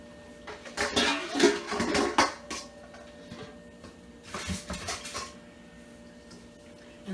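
A bowl taken out among other dishes, two bursts of ceramic clattering and scraping, close and fairly quiet, separated by a pause, no speech.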